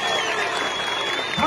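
An audience breaks into steady, dense applause at a live event. The clapping fills the whole moment at an even level, with some crowd noise mixed in.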